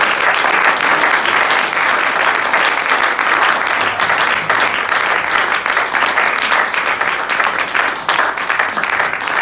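Loud, dense audience applause greets a stage performer at a cabaret-style show, many hands clapping continuously and evenly for several seconds without talk.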